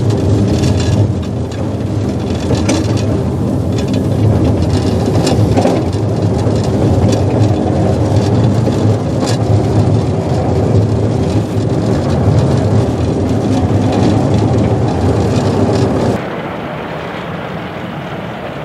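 A train in a cab ride descends a steep grade as the handbrake is set, giving a loud, continuous rumbling roar with scattered rattles and clanks, close and alone, which drops in level near the end.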